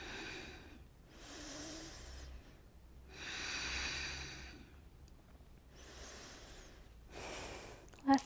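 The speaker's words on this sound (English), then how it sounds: "3 more breaths." Deep breathing during a yoga pose, slow alternating inhales and exhales, about four long airy breaths close by with short pauses between them and no talk.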